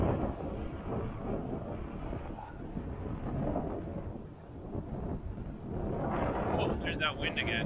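Winter wind outdoors in Montreal buffets the microphone in heavy, continuous rumbling gusts that swell and ease, loud and close, with a voice speaking through it.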